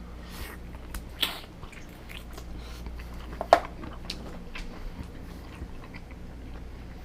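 Someone bites into and chews a juicy, lightly spiced rib, with soft wet squishing chews, a few sharper bite clicks and faint smacking, close and quiet, with no talking.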